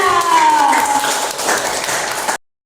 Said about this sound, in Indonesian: Tepuk tangan buat kita.